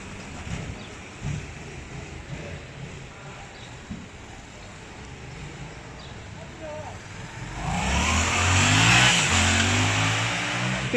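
A Yamaha MT-07 motorcycle revs hard while popping a wheelie, its engine roar swelling loud and close in the last few seconds after a quieter stretch of distant traffic and voices.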